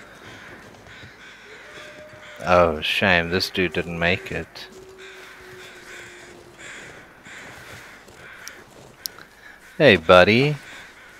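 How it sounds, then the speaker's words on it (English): Crows cawing in the survival game The Long Dark, a burst of harsh repeated caws early on and another short cluster near the end, loud and close, with someone talking quietly between them. "Wow, there's a lot of crows here."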